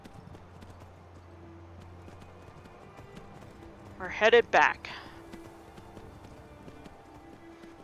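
Horses in the video game Skyrim VR clip-clop in a short, close burst of hoofbeats over quiet ambience, with someone talking nearby.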